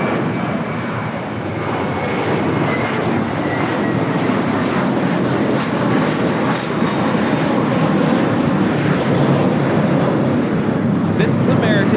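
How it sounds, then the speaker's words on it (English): American Airlines Airbus A321 taking off at LAX, a loud, steady jet roar with rumbling low end building slightly toward the end, with people talking under it. "This is American Airlines 238 taking off to JFK on the A321"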